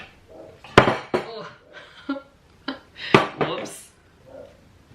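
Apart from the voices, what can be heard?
noodles being transferred from pot, dishes clattering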